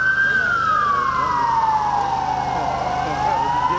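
A loud ambulance siren at an emergency drill wails with a slow falling-then-rising pitch sweep, close and continuous over a low engine rumble.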